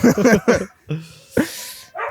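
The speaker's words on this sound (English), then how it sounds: "take that dog inside." A dog barks several times in quick, loud yips and woofs at a house in Washington, with short pauses between bursts and a whimpering tail at the end.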